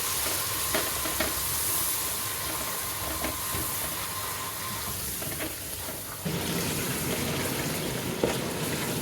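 Masala with coriander powder and garam masala is stirred and fried in a pan, a continuous sizzle broken by scraping stirs and clinks, moderately loud with no talking.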